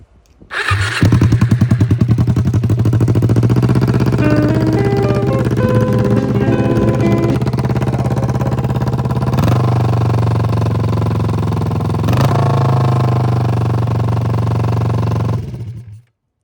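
A 2006 Kawasaki Ninja 250 running with an open header, a loud steady engine roar held close for about fifteen seconds, with a couple of brief throttle blips partway through before cutting off.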